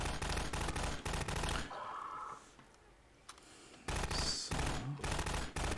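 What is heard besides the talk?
enemy gunfire in video game Half-Life 2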